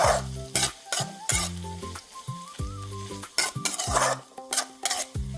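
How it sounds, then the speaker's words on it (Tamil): Chicken and mushrooms are stirred into onions frying in a pan, giving a steady sizzle with scraping stirs, under tonal background music. "இப்போ இதை வந்து இந்த வெங்காயத்தோட சேர்த்து மிக்ஸ் ஆகும்."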